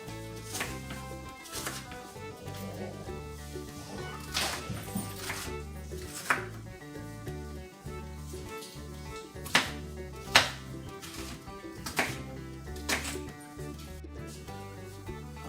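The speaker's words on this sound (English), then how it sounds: "I just diced up my onion" A knife dices onion on a board for lasagna in a steady run of close, crisp chops lasting several seconds, with a few sharper louder strikes along the way and no talking.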